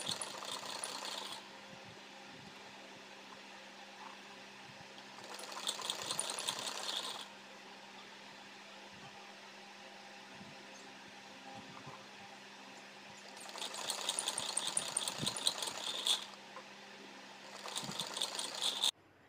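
A sewing machine stitches a border onto a printed kurti in four separate bursts of quick mechanical whirring and rattling, with quiet pauses between runs.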